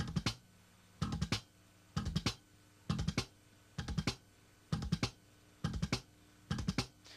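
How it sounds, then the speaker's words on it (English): A fast slap-bass 'machine gun' triplet pattern of thumb, left-hand click and pluck repeats in tight bursts of three about once a second, crisp and percussive, with quiet gaps between. "This is something that I call a machine gun triplet."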